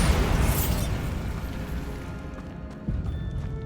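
A Bombarda spell blast in a Harry Potter video game, a loud rumbling explosion with crackling debris that tapers off, followed by a second smaller thump near the end.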